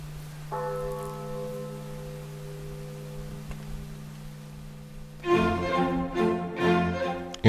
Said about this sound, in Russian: Сейчас колокол отзвонит